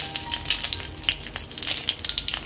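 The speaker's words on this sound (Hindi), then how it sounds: "अब इसे अच्छी तरह से हम भून लेंगे।" Dry red chili, coconut, onion and garlic fry in oil with a steady close sizzle and crackle. Small pops run through it throughout, with no speech.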